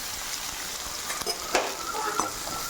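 Onions fry in hot oil with mustard seeds, fennel, cumin and green chilli in a pan, a steady bright sizzle punctuated by a few scraping stirs of the spoon, close and continuous.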